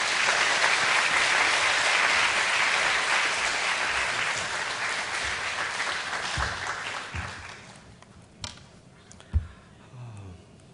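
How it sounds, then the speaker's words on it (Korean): A church congregation applauds to welcome a pastor to the pulpit, dense steady clapping filling the hall for about eight seconds before thinning out into a few scattered claps and quiet room noise. "목사님 나오실 때 박수로 모시겠습니다."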